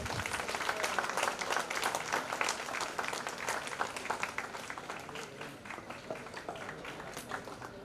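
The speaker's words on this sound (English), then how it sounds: "A big round of applause from this." Audience applause at a school book launch event, a full room clapping steadily and fairly briskly for about eight seconds, tapering slightly toward the end.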